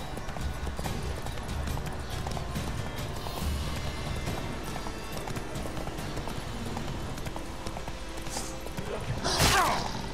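Horse galloping in the video game The Witcher 3, rapid rhythmic hoofbeats clip-clopping steadily throughout, with a brief whoosh-like burst near the end.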